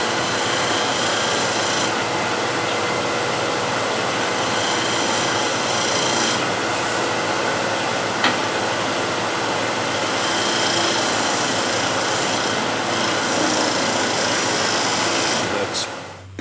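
A hand tool scrapes lightly over a wood surface in place of sandpaper, giving a continuous loud rasping hiss made of long smooth strokes with short breaks between passes.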